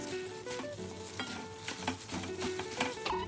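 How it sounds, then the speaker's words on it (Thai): A spoon stirs and mixes a Thai bamboo shoot salad with toasted rice and sliced shallots. Soft scraping and wet patter repeat steadily and close up, with no talking. "คนให้เข้ากันค่ะ"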